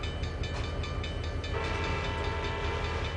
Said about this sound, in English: there's a train coming the other way